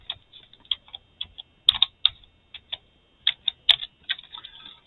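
Irregular clicking from typing on a computer keyboard, close and fairly crisp, with short bursts and pauses between keystrokes and no voices.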